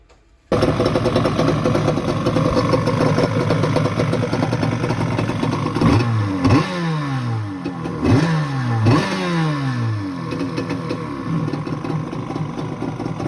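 A jet ski engine runs steadily after a carburetor tune, with a buzzy idle broken by three sharp revs that rise and fall in quick succession midway. An exhaust leak is present. The engine is close and loud, with no voices.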